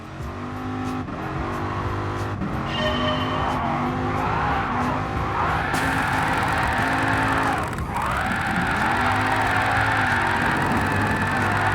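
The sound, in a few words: Dodge Viper GTS drifting in Gran Turismo Sport video game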